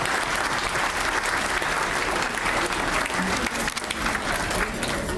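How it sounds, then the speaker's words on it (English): A banquet audience claps steadily for two award of merit recipients, dense sustained applause filling the room with a murmur of crowd voices throughout. "Let's have a nice round of applause for them."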